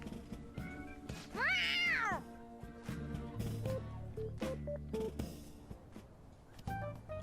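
In the video game Persona 5 Royal, a cat gives one drawn-out, rising-and-falling meow, loud and close, over continuous soft game music that carries on afterward.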